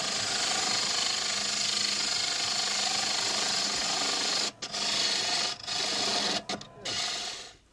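Steady, harsh rasping of a lathe parting tool cutting into a brass bushing, continuous and close, with a few brief pauses near the end.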